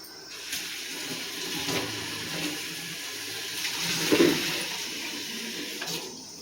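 Elephant foot yam pieces in a bowl are rinsed under running tap water, a steady, close rush of flowing and splashing water that continues throughout with small swells.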